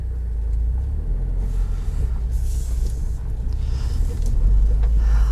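Interior rumble of a 2020 Subaru WRX Limited with manual transmission driving, steady low road and engine noise with occasional swells and faint rattles, no talking.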